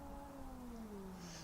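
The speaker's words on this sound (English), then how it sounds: "he heard the sound of cats meowing and fighting." Cats meowing and yowling as if squaring off to fight in a yard at night, long drawn-out wailing cries with sliding pitch, fairly faint and alone without talk.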